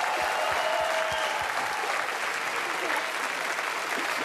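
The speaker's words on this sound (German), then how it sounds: "Dein Applaus" Television show audience gives a loud, dense round of applause that carries evenly throughout, with a few low thumps near the start under the clapping.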